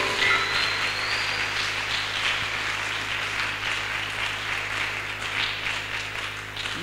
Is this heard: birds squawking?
no